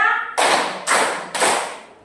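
Three sharp, loud hand claps in a classroom patterned-clapping routine, evenly spaced about half a second apart, each ringing out and fading before the next.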